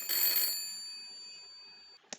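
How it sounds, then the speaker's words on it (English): A telephone bell rings loudly in one brief burst, then decays into a long fading ring, with a faint click near the end. "The phone finds itself ringing."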